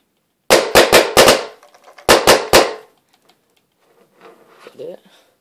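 Planet Eclipse Geo2.1 paintball marker firing outdoors, a quick burst of four loud close pops, then a pause and three more, followed by quiet rustling and a brief murmur.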